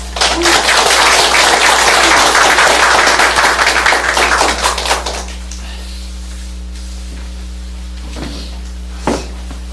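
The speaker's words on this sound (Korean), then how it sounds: "우리 박수로 초대 인사를 하면 좋겠습니다" A church congregation applauds to welcome a lay preacher at a Sunday service, a loud wash of clapping over a steady low hum that fades out after about five seconds, followed by a few faint knocks.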